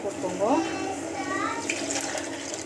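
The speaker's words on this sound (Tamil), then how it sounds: "தண்ணி எவ்வளோ தேவையோ அந்தளவுக்கு வந்து தண்ணி போட்டுக்கோங்க" Water is poured into a pan of sprouts masala gravy while cooking, as a brief splashing pour heard under a woman's speech.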